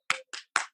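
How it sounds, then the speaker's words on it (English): Three short, distant claps or bursts of applause from people on New York rooftops at 7 pm, separated by brief silences, faint and echoing, with no talk. "People are like up on roofs right there, clapping"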